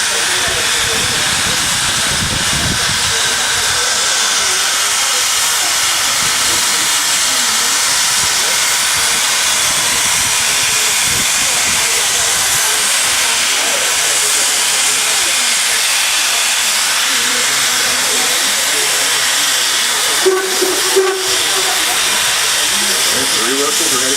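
Steam locomotive engine 26 at Steamtown in Scranton, Pennsylvania, hisses steam loudly and steadily from start to finish, close by, with a brief faint clank near the end.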